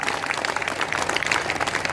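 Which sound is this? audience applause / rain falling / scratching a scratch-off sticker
audience applause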